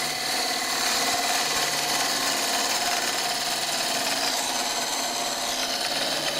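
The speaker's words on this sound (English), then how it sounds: "So I've now got the 1/2 inch gouge. That feels better. Come back up here, make a nice cut." Half-inch gouge cutting an oak burr bowl on a wood lathe, a loud, continuous rough shearing hiss over the steady hum of the spinning lathe, close up with no talk.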